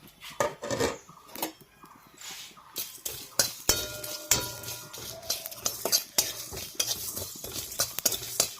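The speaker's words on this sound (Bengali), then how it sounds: "ধনা জিরা শুকনো লঙ্কা তেজপাতা এগুলো একটু ভাজে নিচ্ছি" Coriander, cumin, dried red chili and bay leaf fry briefly in oil while a spoon repeatedly scrapes and clinks against the pot, a light sizzle under frequent stirring knocks.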